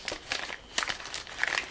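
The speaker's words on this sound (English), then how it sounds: "I'll try and slide it out of the plastic" Thin plastic sleeve crinkling as a paper cross-stitch pattern is slid out of it, a run of close, soft crackles and rustles with no talking.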